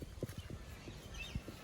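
Donkey hooves clip-clopping at a caravan park, a quiet, uneven run of soft hoof knocks at close range against a faint outdoor background.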